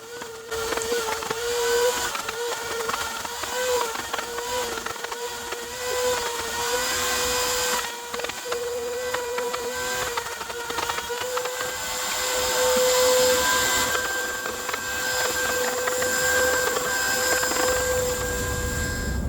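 A router table cuts wood for bee boxes, the motor giving a steady high whine with a loud, strained cutting roar as the piece is fed through, close and continuous with no talk.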